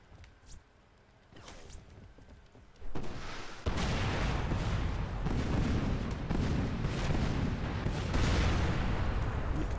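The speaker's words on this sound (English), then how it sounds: "I'm exploderizing various things." Explosions and gunfire in the game Crackdown, starting with a few sharp distant shots, then a heavy boom followed by sustained loud rumbling blasts and crackling fire.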